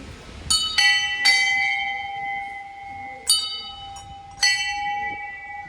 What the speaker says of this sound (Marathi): वाजव घंटी